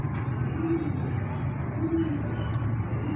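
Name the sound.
pigeons cooing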